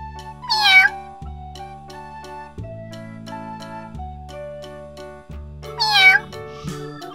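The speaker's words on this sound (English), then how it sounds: "Cat." A cat meows twice, each a short rising cry, over a soft, plinking children's music backing with a steady bass.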